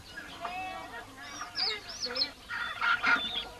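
Domestic fowl in a Kayan village in Borneo cackle and honk in a lively, close cluster of calls, with a voice narrating over them.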